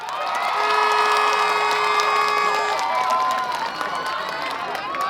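A rally crowd in Udon Thani cheers and applauds, a loud continuous roar of clapping, shouts and whoops that holds steady and then thins slightly near the end.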